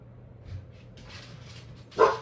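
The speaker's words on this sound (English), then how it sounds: "That was Luna barking" A single sharp dog bark rings out near the end, fairly loud, after a few quieter background noises in an otherwise calm room.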